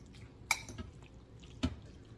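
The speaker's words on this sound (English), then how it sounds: "Stir it around, get all the juices covering it so it doesn't make it so dry." Chicken being stirred with its juices in a slow cooker, quiet wet sloshing with two distinct clinks of a utensil against the pot.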